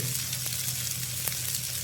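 Fish fries in a pan with a steady, even sizzle and occasional soft crackles, heard alone and close.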